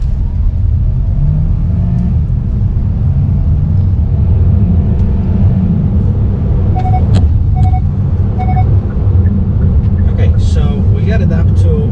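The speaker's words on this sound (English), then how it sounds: "Got it up to almost 60 miles per hour, and this is about as far as I can go on this street" A 2022 Hyundai Santa Fe Hybrid in sport mode accelerates hard along a street toward 60 mph, with a loud, steady engine and road rumble throughout. A few short chime tones sound near the end.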